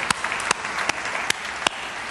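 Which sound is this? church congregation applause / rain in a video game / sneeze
church congregation applause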